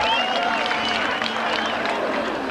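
Crowd at a 1991 British Touring Car Championship motor race, a broad, continuous roar of cheering and applause, with a commentator talking over it.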